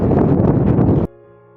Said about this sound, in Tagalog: Habang sobrang hangin.